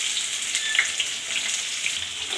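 Onion sputters and sizzles in oil alongside star anise, bay leaf, cardamom, cloves and cinnamon for a restaurant-style chicken gravy, a bright continuous crackle with small pops, close up and unvoiced.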